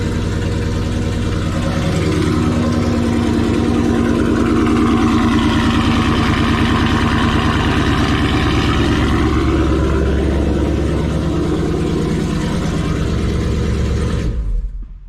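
A car engine idles steadily at a low rumble after its first startup following PCM troubleshooting, close and continuous, then cuts off abruptly near the end.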